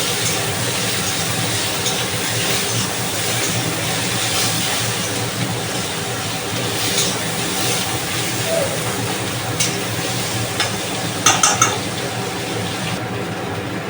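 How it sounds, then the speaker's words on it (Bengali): Onions fry in hot oil, giving off a steady, close, dense sizzle that continues without a break. "পেঁয়াজটা আগে একটু ভেজে নিই, তেলটা কমানিয়ে থাকবে।"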